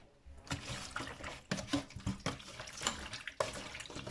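Squid being washed by hand in water with vinegar in a sink or basin, with steady splashing and sloshing punctuated by sharper splashes, close and moderately loud, no talking.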